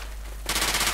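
Automatic gunfire in the video game Left 4 Dead 2 erupts halfway through, a rapid burst of loud, closely spaced shots.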